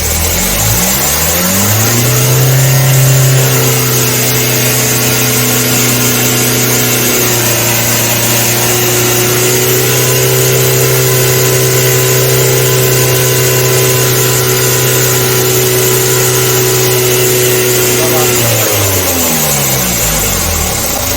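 A car with a faulty turbo revs up as the accelerator is pressed and held, climbing to a loud sustained drone for about fifteen seconds before dropping back to idle, heard up close with no talk.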